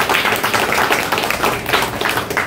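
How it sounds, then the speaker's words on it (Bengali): Audience at a programme for special children claps loudly, a dense, close burst of hand claps sustained throughout. "আমরা আরণ্যকের তরফ থেকে বিশেষ শিশুদের জন্য একটা জোরে হাততালি এদেরকে জানাচ্ছি।"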